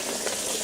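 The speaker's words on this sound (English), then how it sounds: "I'll just pour that in." Liquid is poured into a hot, smoking cooking pan, making a brief, steady, broad sizzling hiss.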